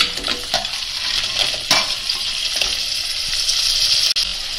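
Crabs drop into hot oil with a ground paste of green chillies, ginger, coriander and salt over mustard and cumin seeds in a Konkan village kitchen, giving a steady close sizzle with stirring scrapes and a few clinks, no talking.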